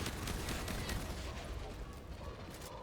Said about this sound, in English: I'm using the shotgun in.